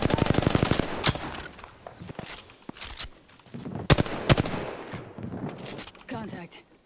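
Gunfire in the battle-royale shooter Apex Legends, with a rapid automatic burst at the start followed by scattered single shots and short volleys, loud and close, mixed with game voice callouts.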